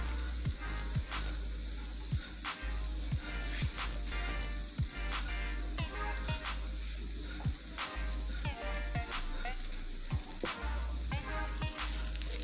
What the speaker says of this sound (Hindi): मुसलसल इसमें चम्मच हिलाते रहेंगे।